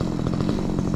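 A chainsaw cuts through hard wood during tree clearing on Macleay Island, its engine roaring steadily and loudly throughout with a gritty, pulsing rasp as the chain bites.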